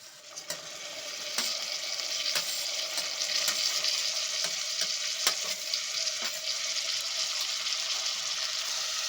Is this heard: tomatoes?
yes